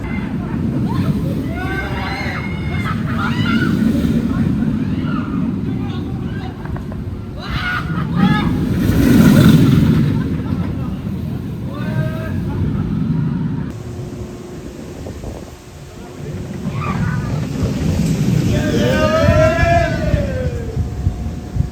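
Anubis launch roller coaster at Plopsaland in Belgium, ridden in the back row, roars past with heavy wind rush and rumble while riders scream and shout over the continuous noise.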